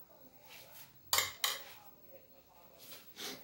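A spoon scoops sauce from a cooking pot, giving two sharp metallic clinks close together against a quiet kitchen background.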